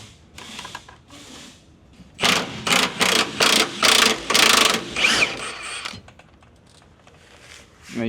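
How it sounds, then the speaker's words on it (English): Ratchet or power tool loosening a 14 mm bed bolt on a Nissan Frontier truck, several loud, short bursts of rapid mechanical whirring in quick succession, with quieter clicks and handling sounds before and after. "Next step is going to be removing your bed bolt here. This is going to be a 14 millimeter"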